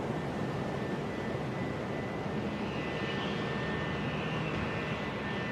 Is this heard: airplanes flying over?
yes